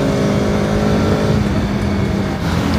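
Two motorcycles race flat out, a Yamaha R15 V3 and a Yamaha RS200, one of them modified, with a loud, steady engine roar holding close and constant throughout.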